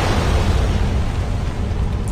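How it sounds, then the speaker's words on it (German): A sustained, heavy roar of an explosion in Dishonored: The Knife of Dunwall, loud and dense with strong low rumble, holding steady without any speech. "so sieht's dann aus, wenn man den ganzen Kram hier in die Luft jagt"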